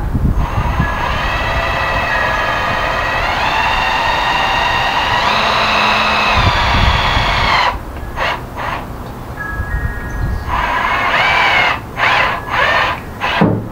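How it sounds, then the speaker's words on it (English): A power drill whines loudly and steadily, its pitch shifting as it bites into a plastic jug cap, then stops and starts again in short bursts. "drill a hole right in the very center of it."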